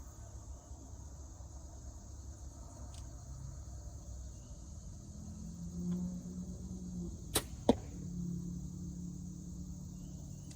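An arrow shot from a hunting bow during whitetail practice strikes the target with one sharp crack, then a quick second thud, over a steady outdoor hum of insects.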